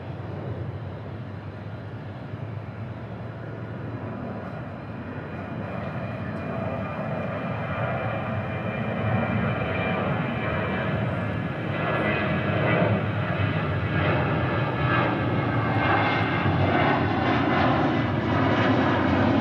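American Airlines Boeing 777 flying past, a steady broadband engine roar that builds gradually and holds loud throughout.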